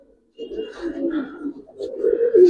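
A male Giribaz pigeon of good quality coos close by, a low, throaty, rolling call that runs almost continuously after a short silent opening and swells toward the end.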